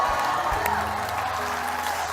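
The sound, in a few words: congregation applauding in church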